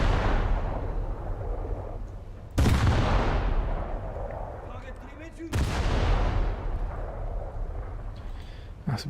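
Three heavy booming salvos of naval ship guns in World of Warships, each a sudden loud blast with a long rumbling decay, spaced a few seconds apart.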